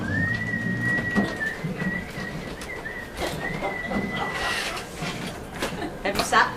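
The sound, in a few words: person whistling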